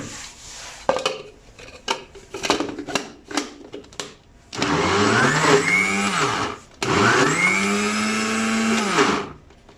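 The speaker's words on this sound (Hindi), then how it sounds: "अब मुझे इसको दोबारा से चॉपराइज करना है।" An electric chopper grinds a spiced fish mixture: a run of short buzzing pulses, then two long loud whirring bursts with a falling pitch as the motor spins down, close and alone.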